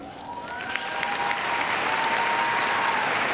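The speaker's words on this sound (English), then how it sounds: "please hold your applause until all have been introduced" Audience applause fills a graduation ceremony hall at Langham Creek, a steady, dense wash of clapping from a large crowd that swells slightly and holds throughout, with a faint tone running beneath.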